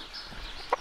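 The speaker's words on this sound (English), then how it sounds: "He's the only rooster around here, other than Henry." A farm rooster gives a short, close cluck near the end of a brief outdoor moment, with faint background ambience before it.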